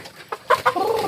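Farm chickens cluck close by in a few short, quick bursts, ending in a longer cackle.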